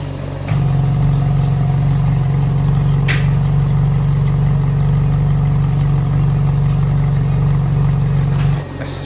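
Ferrari 458 Italia engine running with a faulty left-side exhaust valve held open: a loud, steady, deep idle drone that starts abruptly and holds evenly for about eight seconds before cutting back, with no talking.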